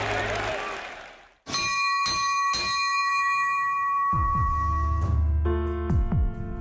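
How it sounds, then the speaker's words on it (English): A bell is rung to open a Lakers basketball game, giving several bright ringing strikes whose tones hang and decay together. Applause and crowd noise build beneath the later rings. "As we ring the bell to start tonight's game"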